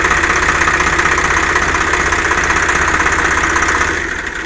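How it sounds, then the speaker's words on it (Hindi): A new Swaraj 735 tractor, just started with the key, idles nearby with a loud, even diesel chug and rumble. It eases slightly quieter at the end, with no talking. "ये देखिए अभी झट से चाबी मारा तो स्टार्ट हो गया।"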